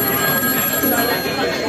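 A grey CanTV landline telephone's bell rings in a continuous loud, dense rattle, heard close up amid the bustle of an antiques fair at a transport museum.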